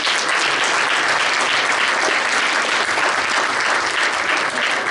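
An audience at a debate event applauds for several seconds in a full, continuous wash of many hands clapping, steady throughout without speech.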